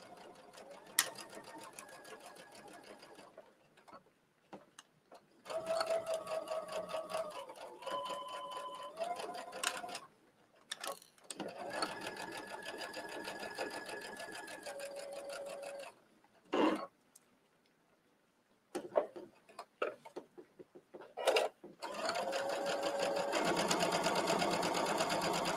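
A sewing machine runs in several bursts of steady stitching along the seam of a zippered lip bag, with short pauses between them. The machine sounds close and fairly loud.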